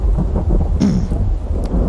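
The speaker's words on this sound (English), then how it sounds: "But we also need protection from the rain" Thunder rumbles low and heavy over steady rainfall in the survival video game The Infected, a loud continuous storm wash with no voices.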